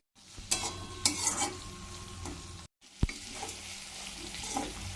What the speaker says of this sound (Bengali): এরপরে আদা রসুনের বাটাটা দিয়ে ভেজে নেব একটু।